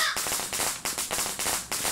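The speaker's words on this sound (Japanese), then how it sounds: "爆竹あったな" Firecrackers crackle and pop in the horror game Shadow Corridor, a dense run of sharp bursts repeating in close, loud waves with no talk over them.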